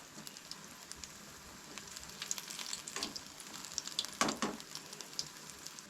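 Vegetables frying in hot oil for a Goan-style Shravan veg thali, a steady soft sizzle with crackling bursts that grow louder toward the end, heard alone.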